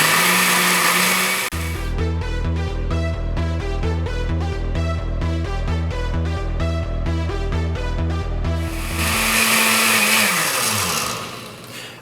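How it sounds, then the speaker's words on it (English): A blender blending plant milk roars at high speed with a loud, steady whir and a rapid pulsing chop. Louder motor noise bookends it, then winds down at the end. "I'm going to go ahead and blend it on high speed for about 3 to 4 minutes"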